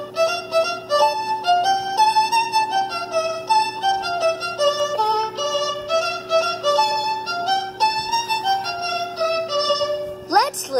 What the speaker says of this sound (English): the violins sound like this